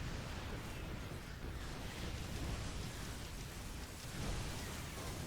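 Psionic storms crackling in StarCraft during a Terran versus Protoss battle, a dense, continuous electric roar and fizz that fills the scene at steady loudness with no talk.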